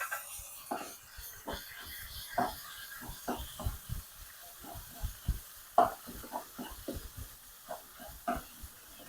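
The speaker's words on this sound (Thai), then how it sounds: "เอาหมูลงไปผัดเลยค่ะ" Pork stir-fried in a pan for a stuffed-egg filling: a steady run of sharp spatula scrapes and clacks over a faint sizzle, close and fairly quiet, with no talking.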